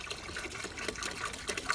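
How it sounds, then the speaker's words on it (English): Water pours into a container to make a hide-tanning solution, a faint, continuous trickling and gurgling with small splashy bursts throughout, quiet and a little distant, with no speech. "3 gallons of water."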